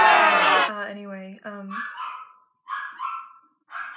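A pet dog barks and yelps indoors, a few close sharp vocalizations after a loud burst at the start, with pauses of silence between.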